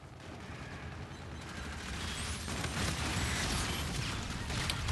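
Gunfire from a weapon in the video game Call of Duty: Infinite Warfare, a faint, dense burst of shots and noisy impacts that grows louder over several seconds.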